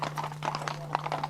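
Horse hooves clip-clop in a quick, uneven patter on a Victorian London street, fairly close, with a steady low hum running underneath.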